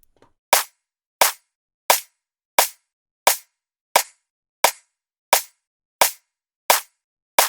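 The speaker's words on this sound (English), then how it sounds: "Foley clap sounds, pan to left and right, and another generic clap." Eleven sharp, bright foley clap hits, layered as a snare in a drum and bass track, sound at an even, steady pace, each snapping in cleanly and cutting off short, with silence between.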